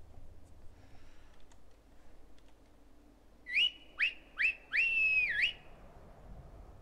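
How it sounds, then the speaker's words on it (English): A horse whistle in Skyrim, three short rising whistle notes followed by one longer sustained whistle, clear and isolated over quiet game ambience. "There you are, horse whistle."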